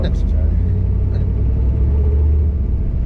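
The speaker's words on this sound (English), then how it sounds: "I hear that exhaust" A steady low exhaust rumble from a 1994 Chevy Camaro Z28 fills the whole stretch, loud and close, with a brief voice and faint sounds over it.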